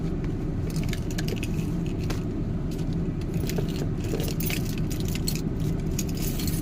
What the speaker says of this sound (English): I got my keys right here.